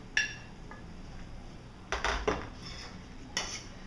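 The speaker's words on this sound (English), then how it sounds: "Give it a nice stir." A spoon scrapes and clinks against a pot while shrimp and andouille sauce is stirred, a few sharp metallic taps and scrapes spaced out over quiet background hiss.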